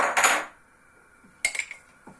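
A metal cooking pot clatters as it is set out before being filled with water: a burst of ringing clanks, a pause, then a quick cluster of lighter metallic taps and one faint knock.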